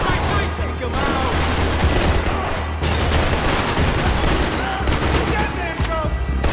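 Dense, loud gunfire from the Max Payne 3 video game, rapid bursts blending into a continuous fusillade with booms, layered over a busy combat soundtrack.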